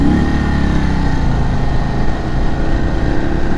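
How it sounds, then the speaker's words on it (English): A 2022 Indian Chief Dark Horse motorcycle engine revs high and steady while riding up an incline, a loud continuous droning roar with wind noise and no pauses. "I feel like I'm over revving this bike, especially on the inclines, because it's just, I mean, it's kind of screaming a little bit."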